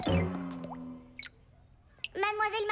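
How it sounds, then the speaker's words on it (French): A leaking faucet drips in a few faint, soft plinks between short bursts of a child's speech in an animated cartoon. "Mademoiselle Martin, je crois que le robinet coule."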